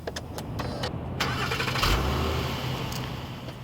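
A 2009 Acura TL's Honda 3.5-liter VTEC V6 sounds close and steady, its engine note swelling slightly midway, with no talking over it.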